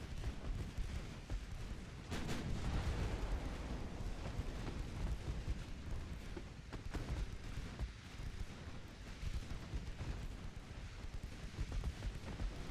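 Warship secondary guns fire in a naval battle game during a USA long campaign, with a steady rumbling barrage of distant booms and a few sharper blasts under constant low roar.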